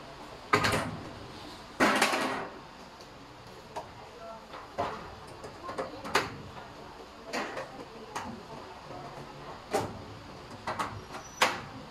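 Metal drawer slides for a lateral filing cabinet clack and scrape while being fitted, giving sharp irregular knocks and sliding rasps spread over several seconds, close by, with quieter rattles in between.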